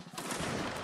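Single sharp musket-style rifle shot in a Mount & Blade: Warband Napoleonic Wars battle, a broad loud burst filling the whole short moment with dense noisy crackle.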